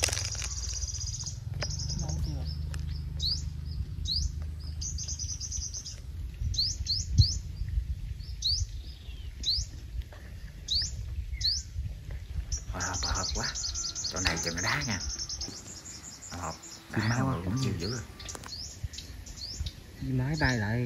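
Sunbirds give sharp, repeated high chirps and tweets near a bird trap cage in Vietnam, scattered in quick bursts over a low hum, with rustling and brief noises in between.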